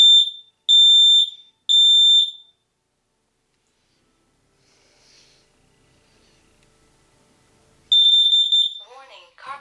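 A smoke and carbon monoxide alarm sounding during a test: three loud shrill beeps in a row, a quiet gap, then another beep, followed by a synthetic voice speaking a warning.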